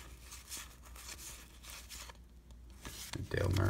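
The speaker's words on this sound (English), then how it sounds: "It's fun just opening cards." Foil wax pack of 1989 Donruss baseball cards being torn open and handled, with crinkling and tearing bursts that build louder toward the end, close and dry with no voices.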